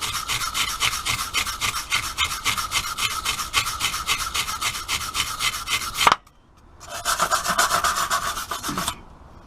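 Rapid rhythmic rasping strokes scrub surface rust off the bodywork of a Rover 45, a fast steady back-and-forth scraping that stops briefly near the end, pauses, then resumes for a short burst.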